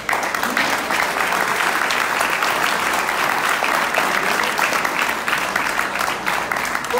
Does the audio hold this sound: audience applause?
yes